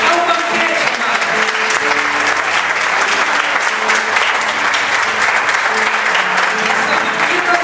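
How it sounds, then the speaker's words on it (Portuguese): Church congregation applauding the Lord during a Sunday service sermon, a steady, dense wash of clapping from many hands that fills the room evenly from start to finish. "Você pode aplaudir ao Senhor?"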